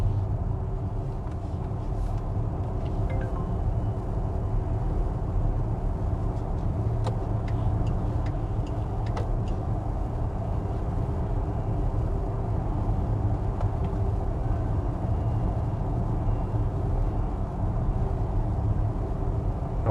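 Hongqi E-HS9 electric car driving on a motorway, heard from inside as a steady low road and tyre rumble with wind noise, constant and moderately loud for the whole stretch, with a few faint clicks and no talking.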